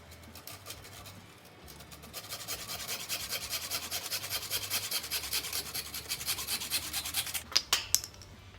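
Steady abrasive rasping as a snooker cue is trimmed down at the tip end, building from a light rub to a continuous scraping that runs for several seconds, then breaks into a few sharp knocks near the end.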